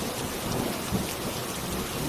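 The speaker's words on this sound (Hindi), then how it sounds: "कुछ दिनों बाद गांव में भयंकर" Heavy rain pours steadily with rumbling thunder beneath it, a dense, continuous storm wash in a village setting, loud and unbroken with no voices.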